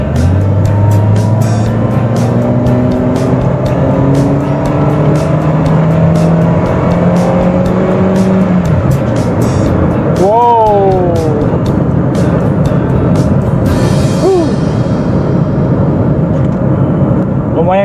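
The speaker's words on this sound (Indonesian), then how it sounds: "Saya akan coba kick down setelah ini." A Toyota car accelerates hard after a kick-down, its engine note climbing steadily in pitch and then shifting through gears in a loud, continuous roar heard from inside the cabin.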